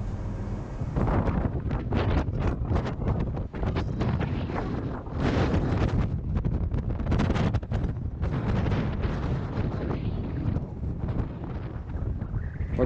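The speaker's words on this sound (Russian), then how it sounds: "Погода сегодня у нас не очень, сильный ветер, я думаю, вы все увидели, и он все усиливается" Strong wind roars and buffets the microphone in loud, gusting surges on the main deck of a tanker ship, rising and falling continuously, with no talking.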